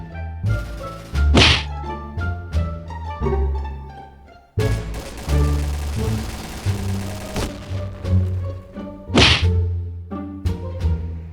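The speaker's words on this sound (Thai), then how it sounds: "แล้วก็นั่งปาระเบิดเฉยๆเลยอ่าปาเข้าไปอย่างนี้" A series of sharp thuds and whacks with whooshing bursts and loud blasts, grenades thrown in the game Point Blank, with background music underneath.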